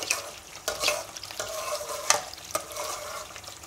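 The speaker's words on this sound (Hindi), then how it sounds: "हमने इसी तरह चम्मच चलाते रहना है।" Spoon stirring milk cream in a pan over low heat as it cooks down into desi ghee, with soft bubbling sizzle and repeated scraping strokes, close and quiet.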